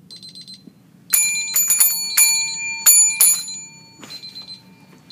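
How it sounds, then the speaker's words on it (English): Several sharp rings of a tabletop call bell left with a patient during mechanical cervical and lumbar traction at a clinic, struck in quick clusters of metallic dings over a low background hum, close and clear. "I can give her a bell if she's doing this at a clinic."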